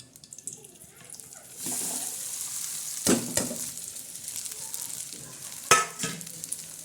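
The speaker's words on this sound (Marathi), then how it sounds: "आता एक कढाईमध्ये मस्त असं तेल टाकलेलं आहे आता शाबदाना आपण त्याच्यावर टाकणार आहोत" Sabudana tipped into hot oil in a kadhai, a soft start swelling into a steady sizzle, with sharp scraping clatters of a spoon stirring the pearls close by and no speech.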